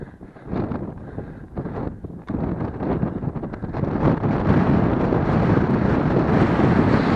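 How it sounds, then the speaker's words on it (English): Strong wind buffets the microphone with a loud, rumbling roar that builds and stays steady, with no talking. "Still very windy."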